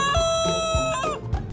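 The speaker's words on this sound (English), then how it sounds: "They are the ones that cock-a-doodle do. They don't just crow in the morning" A rooster crows loudly and close by, a drawn-out cock-a-doodle-doo with a few hen clucks around it.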